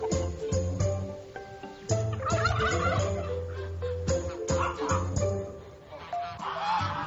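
Turkeys at a Blue Hills poultry stud in Queensland gobble repeatedly in loud, rapid bursts, close by, with other fowl calling among them and a voice briefly audible.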